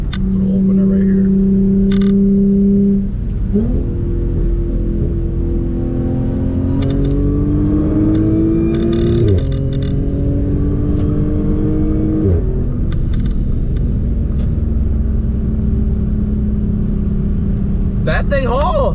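Tuned Audi B8 S4 with a supercharger pulling hard, a loud steady engine drone climbing in pitch through gear changes with a high blower whine on top, and a voice talking over it.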